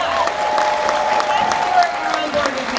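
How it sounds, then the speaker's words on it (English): A fan expo crowd breaks into applause, a brief steady patter of clapping and cheers filling the hall under a speaking voice. "Can we get a round of applause for Brad today?"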